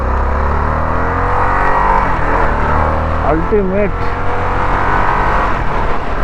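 A Harley-Davidson Sportster S motorcycle engine running steadily in sports mode, a loud continuous rumble that rises in pitch, with someone talking over it.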